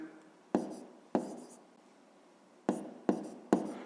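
A pen writes a math answer by hand, with five sharp taps and short strokes on paper, irregularly spaced and close in a quiet room.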